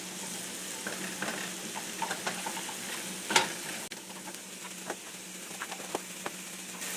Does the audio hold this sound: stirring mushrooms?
yes